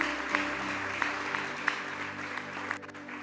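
A congregation at an Ethiopian church service applauds steadily, a sustained roar of many hands clapping with a faint tonal hum underneath, tapering slightly at the end.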